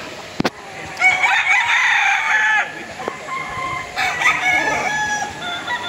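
An Albany gamefowl rooster crows nearby on a gamefarm, two long rising-and-falling calls with a sharp click and a brief cluck between them, loud and clear over faint background noise.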